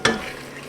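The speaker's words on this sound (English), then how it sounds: "Mix that well." A quick stir of taco soup in a pot: one short scrape and slosh, close by, that fades into a low simmer, with no voices.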